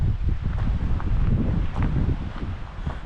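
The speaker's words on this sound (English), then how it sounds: "It's windy." Wind blows across an exposed campsite in Fundy National Park, New Brunswick, Canada, a continuous buffeting rumble on the microphone with occasional soft rustles and gusty swells.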